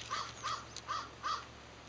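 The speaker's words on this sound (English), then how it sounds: "Our friend the crow." A crow caws four times in a garden, evenly spaced harsh calls at moderate distance, clear and alone without talk.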